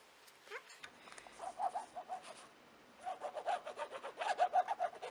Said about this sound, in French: Je frotte bien avec le plioir.